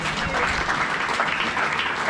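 A church congregation applauds during a sermon, giving dense, steady, sustained clapping that fills the whole short stretch at a fairly loud level.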